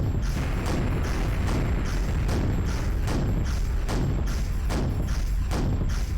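Repeated heavy thuds and booming impacts from a dragon hurling projectiles at the player in Quake: Dissolution of Eternity, arriving in a steady rhythm about every half second, loud and dense with no talk.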